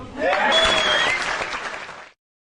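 Sustained applause and cheering from a crowd at a stone skimming championship on Easdale Island, loud and continuous before cutting off abruptly.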